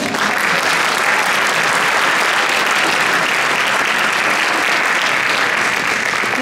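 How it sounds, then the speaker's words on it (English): Loud, sustained audience applause for a high school women's choir at a fall choral concert, a thick wash of clapping from a full hall that never lets up. "Can we have some applause?"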